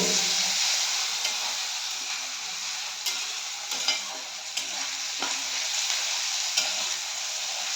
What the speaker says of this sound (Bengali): এবার এটা আস্তে আস্তে নাড়াতে হবে